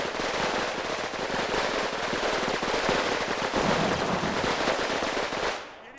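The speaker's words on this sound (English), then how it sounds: "We need to rush this machine gun." Machine gun fire in Combat Mission Red Thunder, a sustained crackling rattle of rapid bursts at steady volume that fades out near the end.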